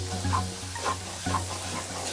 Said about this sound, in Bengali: আমি যতক্ষণ ধরে এটা করতেছি ততক্ষণ ধরে নাড়তেছি, নাড়াটা বন্ধ করা যাবে না।